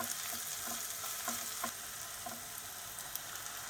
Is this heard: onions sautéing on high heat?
yes